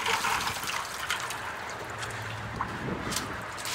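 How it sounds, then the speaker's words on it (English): About 15 gallons of water pour out in a heavy, continuous gush, a loud close splashing wash that holds steady and tapers slightly with no talk over it. "How about 15 gallons of water?"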